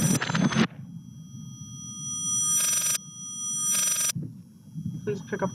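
A telephone rings in a horror video game, two long electronic ring bursts separated by silence, with a person talking briefly before and after.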